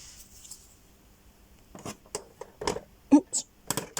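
Fabric scissors snipping through material, a few short crisp cuts and rustles up close, clustered toward the end, alongside soft handling noise.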